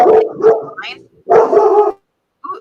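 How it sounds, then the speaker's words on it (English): A dog barks loudly and close by, with several rapid barks and yips in two bursts and a short trailing whine at the end. "Is that your dog, Scott?"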